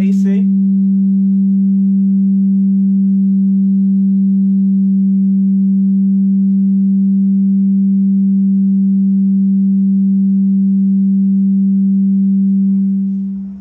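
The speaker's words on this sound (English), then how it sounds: "we have a clean sine wave" A steady, clean sine-wave test tone from a car amplifier on a test bench holds constant and loud for over thirteen seconds before abruptly cutting out.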